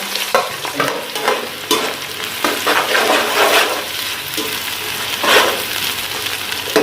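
Steady sizzling and crackling of onions frying in ghee, with occasional stirring scrapes, close and continuous with no talking.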